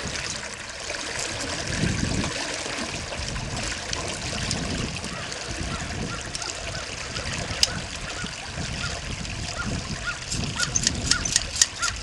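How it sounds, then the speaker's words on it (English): A fair-sized creek flows and trickles in a steady rush close by, with occasional splashes, while people talk quietly at times over the water. "Pretty good size creek."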